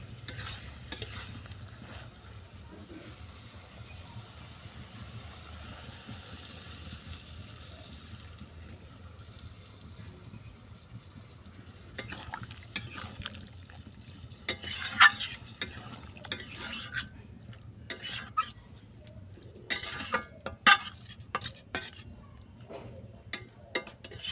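A bottle gourd greens and mixed vegetable curry stirred in a pan, a low simmering bubble under sparse scraping at first, then denser clustered spoon scrapes and clinks later on, close up.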